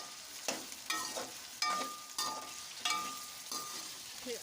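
Repeated scraping strokes of a spoon stirring potatoes and chicken for chicken pulao in a pan, with a soft sizzle underneath and a faint metallic clink between strokes.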